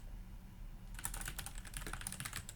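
Quick computer keyboard typing begins after about a second of quiet room tone and runs as a dense, steady patter of close key clicks to the end, with no voices.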